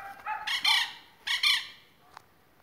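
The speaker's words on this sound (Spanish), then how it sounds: "Mira, ahí hay un gallito barrado." A barred rooster and hens in a coop in southern Chile give a few loud squawking calls, two bursts close together, then a short clatter before quiet.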